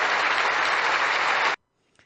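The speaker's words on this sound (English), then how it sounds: "Listen to the applause." Crowd applause after a speech about freedom, a steady dense roar of clapping that cuts off abruptly after about a second and a half, leaving near silence with a faint sound at the end.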